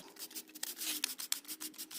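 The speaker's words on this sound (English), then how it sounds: "I'm just gonna give this a quick scrub with a little bit of degreaser" A brush scrubs a part from a 2007 GMC Yukon with degreaser: close, steady rubbing strokes with a few sharper scraping accents.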